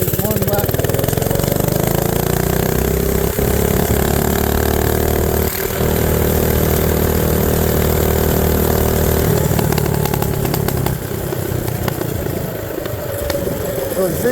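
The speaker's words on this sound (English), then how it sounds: "So you see I let off the throttle real soon, so I have enough time to slow down." A mini bike engine runs loud and steady as the rider throttles down to slow for a stop sign, its drone easing near the end while a voice talks over it.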